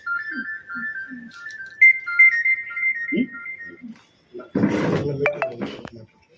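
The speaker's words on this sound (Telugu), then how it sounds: "సార్ కాల్ వస్తుంది అడ్జస్ట్" Phone ringtone for an incoming call, a clear electronic melody of repeating tones close by, followed by a clink and a person speaking.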